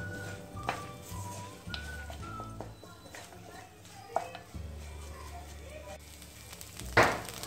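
Lemon juice is stirred into rice in a hot kadhai, giving a low sizzle with intermittent spoon scrapes and one sharp clatter near the end, while a voice speaks faintly underneath.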